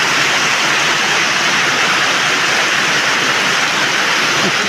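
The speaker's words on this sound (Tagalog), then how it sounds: "Lakas po ng ulan. Ang lakas po ng ulan." A dense, steady roar of heavy rain drenches a backyard eggplant garden, loud and close, with continuous hissing spatter and no breaks.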